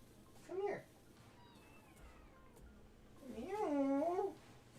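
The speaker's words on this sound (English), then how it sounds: "Look at this cat." Cat meows twice in the Taptap Heroes game, a short call then a longer wavering meow, clear and close over a low background hum.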